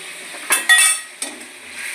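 A spoon stirring and scraping masala with turmeric and Kashmiri chili powder as it fries in a pan, a few close clinks and scrapes over a soft sizzle.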